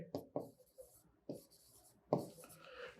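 Writing on a board in a quiet room: a handful of short, separate strokes scrape out in uneven bursts, soft and close, with pauses between them.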